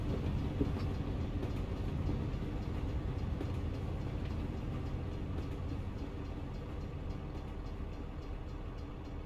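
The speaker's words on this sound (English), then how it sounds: "Train going through." A train rolls through a crossing in American Truck Simulator on a southbound New Mexico route, a steady loud low rumble with faint rail clatter that holds throughout.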